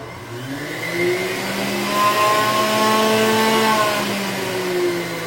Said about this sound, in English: the centrifugal juicer is a little different. It's more like a jet engine